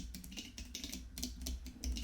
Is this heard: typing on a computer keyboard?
yes